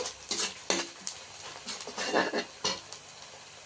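Ginger garlic paste, two spoonfuls, sizzles and is stirred in a hot pan while cooking mutton curry, with crackling bursts and scraping stir strokes at close range, no talking.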